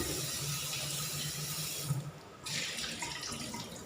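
Raw duck meat rinsed under running tap water in a sink, a steady close splashing rush that briefly drops out before resuming.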